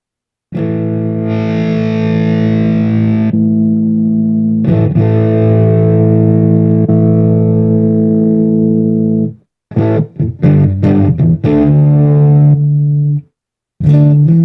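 An electric guitar plays through a Boss Katana 100 head with booster and mod effects engaged, producing sustained distorted chords and a few choppy strummed bursts, loud and close with no talking.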